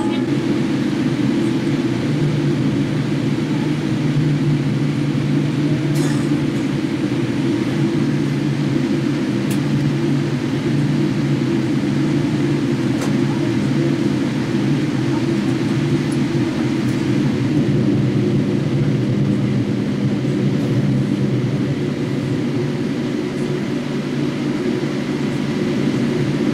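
A Jetstar Boeing 787-8 Dreamliner on its takeoff run, heard from inside the cabin as a steady, loud low-pitched engine roar and rumble that holds constant throughout, with no talking over it.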